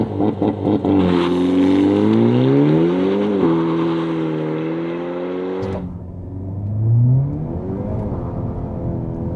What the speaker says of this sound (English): let's head back and try launch control now with stability control off.